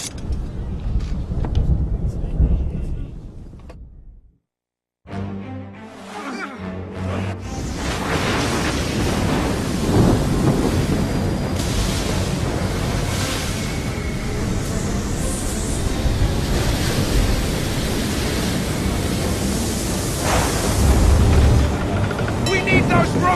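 A storm at sea in Assassin's Creed III roars with heavy wind, crashing waves and rumbling thunder; after a brief dead gap near the start it swells into a dense, continuous loud bluster under game action.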